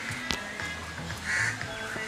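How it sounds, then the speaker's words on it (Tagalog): Crow-like caws and scattered bird calls ring out overhead at a Dubai Atlantis resort, moderately distant, with a brief louder chirp and a steady background hum. "may mga ibon dyan sa taas na maawit."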